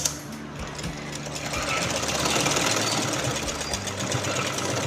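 A sewing machine stitches a fabric shoulder seam with a fast, steady mechanical chatter close by, running continuously at an even loudness with no talk.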